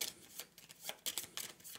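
Cards being shuffled during a solo game of the Sleeping Gods board game, heard as a short run of soft, close riffling and flicking bursts.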